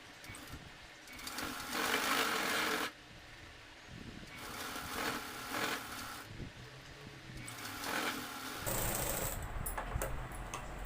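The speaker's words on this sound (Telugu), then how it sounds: "డబల్ స్టిచ్ వేయాలి." A sewing machine stitching a double stitch on a dress sleeve, running in several steady whirring bursts separated by short pauses, close and moderately loud.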